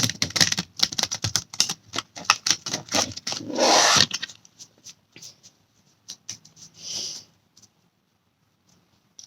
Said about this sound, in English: One more shuffle and one more cut.